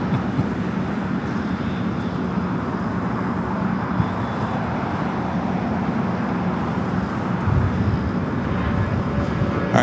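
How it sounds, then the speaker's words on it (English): Delta Boeing 757 jet airliner taking off toward Atlanta, a steady broadband engine roar holding loud and constant throughout, with no voices over it. "that Delta 757 heading to Atlanta"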